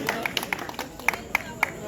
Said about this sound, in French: Je vous prie d'applaudir très très fort, encore une fois pour Madame Abdou